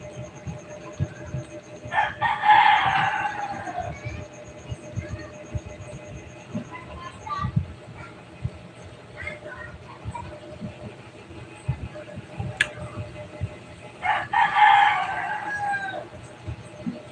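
A neighbor's rooster crows twice in the distance, the calls spaced well apart over a steady low background hum with faint scattered noises.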